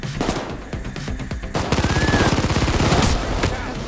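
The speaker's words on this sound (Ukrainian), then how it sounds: "Давайте зниж... Е, постріляємо в поліцію при ньому." Rapid bursts of automatic gunfire from a shootout with police in the video game Payday 2, loud and continuous with dense repeated shots throughout.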